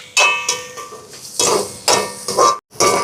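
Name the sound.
onions, green chillies sautéing and being stirred in a pan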